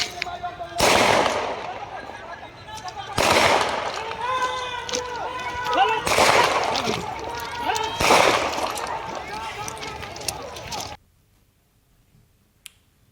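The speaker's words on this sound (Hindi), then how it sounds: "उस पुलिस फायरिंग के वक्त का वाकया जरा आप गौर से सुनिए और देखिए किस तरीके से पुलिस फायरिंग कर रहे हैं" Police gunfire at a student protest in Jahanabad, with four loud broadband shots at roughly two-second intervals over crowd shouting and voices, followed by near silence.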